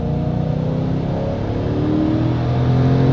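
An Audi RS6 with a 4.0 TFSI engine converted to a single Garrett turbo revs during a dyno run, a loud, continuous engine roar that climbs steadily in pitch as it winds up.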